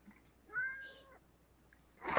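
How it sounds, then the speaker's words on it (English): Pet cat meowing for attention, one drawn-out meow followed by a faint short chirp, near and soft, then a brief rustling noise at the end. "my cat requests attention right the hell now because cat"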